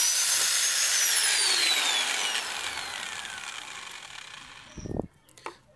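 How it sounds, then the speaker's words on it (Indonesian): A drill whirs loudly and steadily while boring through old water pipe for a knife handle scale, its pitch gradually falling as it winds down, followed by a couple of sharp knocks. "Kemudian kita bor ya."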